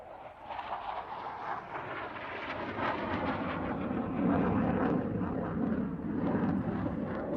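A SoloTürk display jet comes in to land at an airshow, a sustained broad roar of engine noise that builds slightly louder toward the end, with wind buffeting.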